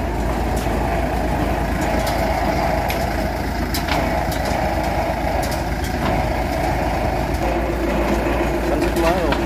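The engine of a Kubota DC78 tracked tiller runs with a steady, loud, continuous rumble that never lets up, joined by faint clanks and what sound like voices in the background.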